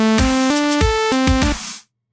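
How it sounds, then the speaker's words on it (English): Initialized Serum plain saw wave synth playing with drums: a bright buzzy sustained tone shifting pitch over punchy kick and snare hits, loud, then cutting off abruptly. "It's just a saw wave."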